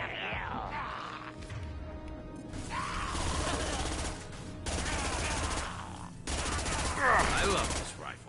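Rifle gunfire in the sci-fi shooter Mass Effect 2, several bursts of loud shots with crashing impacts and a steady game hum beneath, broken by short gaps.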